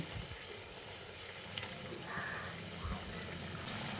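Fried rohu fish pieces go one by one into a simmering gravy for rui macher kalia, giving a quiet, steady sizzle and bubbling with a few soft splashes and plops as the pieces drop in.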